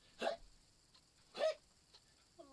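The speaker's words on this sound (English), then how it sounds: "Oh no, I've got the hiccups." A cartoon character hiccups twice, each a short, sharp vocal burst with quiet gaps between, followed by the faint start of speech at the end.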